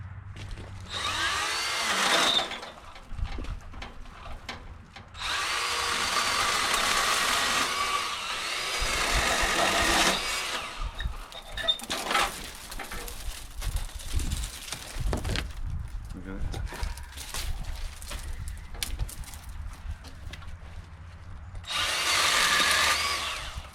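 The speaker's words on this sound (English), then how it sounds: "using my Milwaukee little portable chainsaw," A small Milwaukee portable chainsaw trims an object in bursts of loud, close buzzing that start, stop and restart, with a person talking in the gaps between runs.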